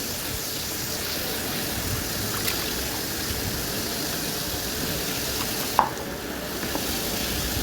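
Fish pieces frying in hot oil in a pan, a steady close hiss of sizzling that continues evenly, with a brief sharp clink partway through and no talking.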